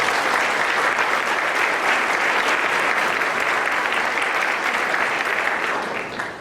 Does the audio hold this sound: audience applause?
yes